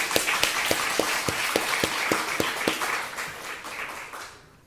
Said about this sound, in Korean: 이런 은혜를 주신 하나님 앞에 감사 박수 한번 치겠습니다